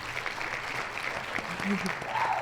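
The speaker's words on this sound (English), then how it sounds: "I need you to give us the applause button, please" A canned applause sound effect plays from a button during a podcast conversation, a short burst of crowd clapping with people talking and laughing over it.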